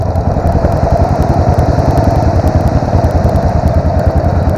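Pro Tork TR100F mini motorcycle pulling away in first gear, its small single-cylinder engine buzzing loud and close with a steady rapid rhythm that holds throughout without a pause.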